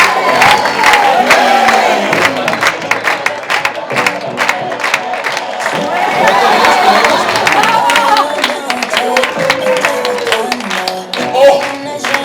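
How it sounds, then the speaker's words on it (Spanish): A children's show audience claps and cheers steadily throughout, a dense crowd sound of many hands with shouts and voices mixed in, loud and close. "Aplausos entre el público suaves."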